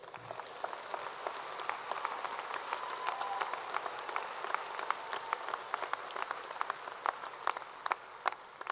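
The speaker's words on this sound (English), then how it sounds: "Can we clap one more time for our graduates?" Commencement audience at a university graduation ceremony applauding the graduates: sustained, dense clapping from a large crowd, steady throughout with sharper individual claps standing out near the end.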